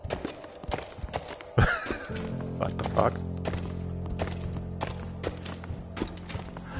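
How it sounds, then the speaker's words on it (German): A cow in the video game Eclipse: Edge of Light walks away, its hooves making a soft, uneven clip-clop of steps over a low droning hum. A man briefly exclaims over it. "Hey, darunter ist eine Kuh."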